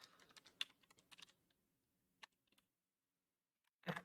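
A password being typed on a computer keyboard: a quick burst of soft key clicks, a pause, one lone tap, then a final louder keystroke, all close and quiet in a silent room.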